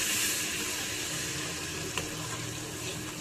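Masala frying in a pan with water just added, a steady hissing sizzle throughout, fairly quiet, with a faint clink midway.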